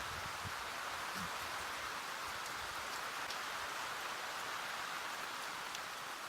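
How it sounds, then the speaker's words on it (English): Rain pouring down steadily outdoors, a dense even hiss with scattered drop pattering, fairly faint and continuous with no voices. "it's basically pouring down rain"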